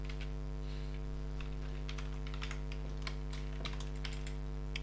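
Fast typing of C# loop code on a computer keyboard: a steady run of light, quick key clicks set against a constant loud mains hum, with no voice.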